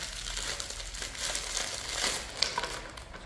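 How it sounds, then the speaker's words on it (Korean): Close crinkling and crumpling of gauze hand-wrap tape for a boxer's knuckles, steady and continuous with small irregular crackles, no voices. "요런 테이프, 흔히 뭐 거즈라고 부르는 형태의 테이프고요"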